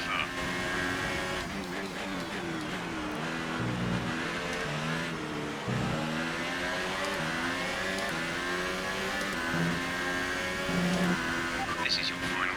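A Red Bull Formula 1 car in F1 2018 howls through a racing lap, its engine pitch rising and falling with throttle and repeated gear shifts, loud and continuous across the whole stretch.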